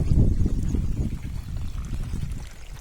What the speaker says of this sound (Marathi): सगळीकडे असं आपण पाणी सोडलेलं आहे